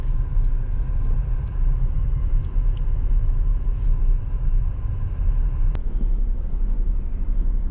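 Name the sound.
traffic jam at a roundabout under a flyover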